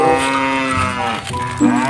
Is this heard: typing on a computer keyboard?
no